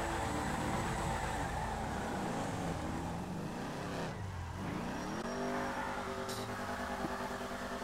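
Dodge Charger engine revving and accelerating during a street race in GTA roleplay, a throaty motor climbing through gears, briefly dropping, then rising again with a faint tire chirp, moderately distant.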